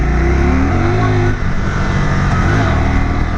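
A Can-Am Spyder three-wheeled motorcycle rolls on a Kumho tire set at 28 psi, its engine droning loud and steady with a short dip and shift in pitch partway through, heard close throughout with wind rush.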